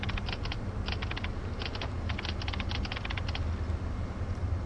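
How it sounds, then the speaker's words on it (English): Pressing the X button on a game controller while playing Remnant: From the Ashes gives off rapid clicking taps that sound like typing, coming in irregular clusters over a steady low hum. "every time I press the X button, it sounds like I'm typing."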